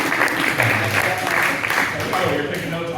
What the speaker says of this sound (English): One more round of applause for Dan Hool